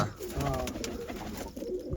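Low, throaty cooing of big female pigeons let out of their cleaned coop, a continuous near murmur of overlapping calls with some background noise and a faint voice.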